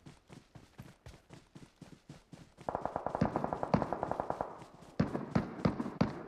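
Rapid bursts of automatic gunfire in PUBG Mobile during a live-streamed match, starting as a steady run of sharp cracks, then growing louder and denser with repeated rattling volleys, no voices over it.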